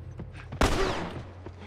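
A single loud gunshot in The Last of Us, a sharp close blast followed by a fading crackling tail, with quiet background before it.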